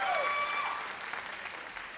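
Studio audience at a televised vocal competition applauds a guest judge, a Papua New Guinean music artist, with a short, fairly faint burst of clapping that quickly fades.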